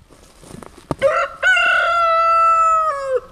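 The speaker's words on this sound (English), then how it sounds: "Cue rooster." A rooster crows loud and close: a short rising start, then a long sustained harmonic call lasting nearly two seconds before dropping off at the end, with a few soft sounds before it.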